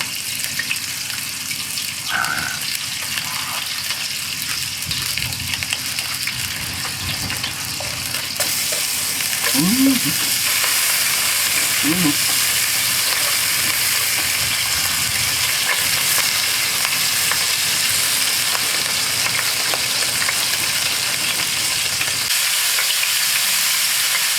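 Thin-sliced pork belly fries with garlic and onion, with a loud, steady, close sizzle that grows fuller partway through, plus a few faint clinks and brief low voices underneath.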